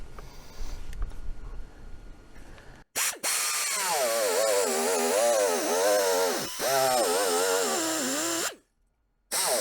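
Die grinder working on metal, a loud whining high-pitched tool note that wavers in pitch as it bites and eases off, running in two long bursts with brief stops and a quieter stretch before it starts.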